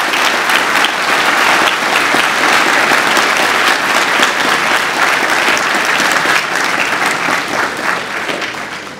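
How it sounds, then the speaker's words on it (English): An audience at a Year 12 graduation ceremony at St Andrews College gives a sustained round of applause for award recipients, dense steady clapping from a large crowd that holds strong throughout and tapers slightly at the very end. "give a final round of applause to all our award recipients tonight"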